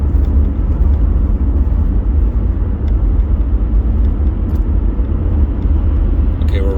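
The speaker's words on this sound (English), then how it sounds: "there's so much traffic" Heavy road traffic passing Boeing Field in Seattle, heard as a loud continuous rumble and whir of vehicles close by.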